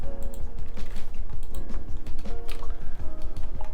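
Computer keyboard keys are pressed in a busy run of sharp clicks and taps at close range, uneven in rhythm and continuing throughout without speech.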